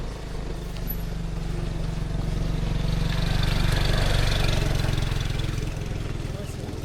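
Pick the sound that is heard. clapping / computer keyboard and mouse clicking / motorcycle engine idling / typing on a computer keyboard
motorcycle engine idling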